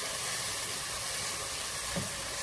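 Onions frying in ghee while being stirred, a steady close sizzling hiss throughout with a soft bump near the end.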